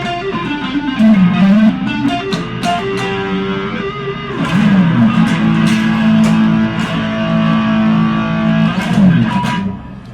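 A heavily distorted Korean-made Future Strat electric guitar plays sustained, gritty chords and bends, loud and upfront, with a few picked notes between phrases.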